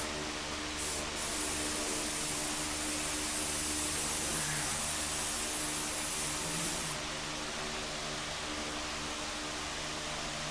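Spray cans priming a 1926 rail in LV gray, a continuous loud hiss of aerosol paint lasting about six seconds before cutting to a quieter steady hiss.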